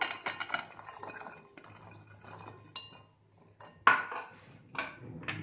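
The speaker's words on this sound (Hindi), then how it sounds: "अब एक बाउल लेंगे, उसमें डाल देंगे लहसुन की कलियां।" Light clinks and taps against a bowl as a few garlic cloves are dropped in at close range, quiet between the clatters, no one speaking.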